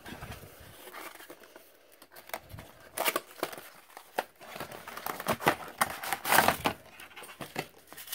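Doll outfit box packaging being opened: repeated crinkling and tearing of cardboard and plastic, close and irregular, growing busier toward the end with soft handling noises between bursts.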